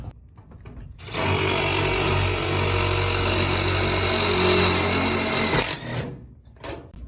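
A power screwdriver drives screws to fasten an LED troffer retrofit kit that replaces old fluorescent lighting. It gives one close, steady motor whine lasting about five seconds, with faint handling noises before and after.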